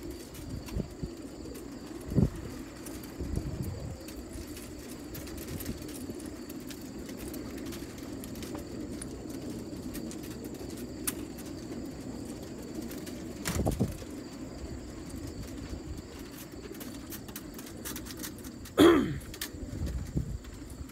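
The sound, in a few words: racing pigeons cooing at a training release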